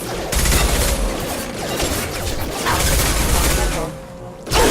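Dense bursts of gunfire and booming impacts fill a Mass Effect 2 firefight, loud and continuous, with a voice speaking over the shooting.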